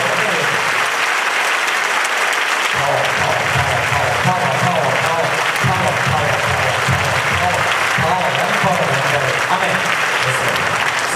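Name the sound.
congregation clapping hands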